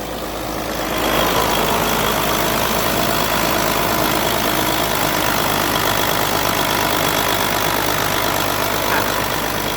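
An engine at a shrimp farm, revved up and then held steady at a loud, continuous drone throughout, close by with no talk.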